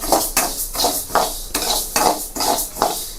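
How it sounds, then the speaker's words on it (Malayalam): A spatula scrapes and stirs dry rice grains roasting in a pan in quick, regular strokes, roughly two per second, close and alone. "അരി വറുക്കണു"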